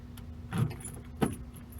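Car keys for a run-down Honda jangle in two brief bursts, a short rattle followed by a second sharper shake, heard close against a low steady background hum.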